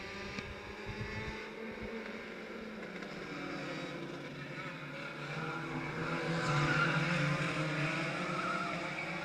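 Race cars in a 10-lap race at RGS roar around the track after the green flag, a steady dense engine drone swelling louder as the pack passes near, with tire squeal mixed in.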